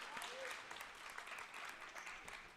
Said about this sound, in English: as the bench applauds their effort